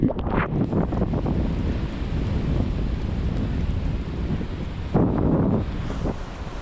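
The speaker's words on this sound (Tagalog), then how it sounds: "Taas ng hangin dyan." Strong wind blasts steadily across the microphone during a bike ride in Quezon Province, with a low rumbling roar, a sharper gust hitting midway through.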